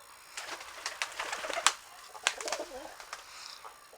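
Pigeons in a loft give soft, low cooing calls with a few sharper bursts and light rustling, fairly close, over a quiet background without speech.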